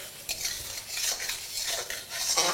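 Katla fish kalia masala stirred in a pan: soft, repeated scraping strokes of a utensil against metal, close and fairly quiet, over a faint sizzle, no talking.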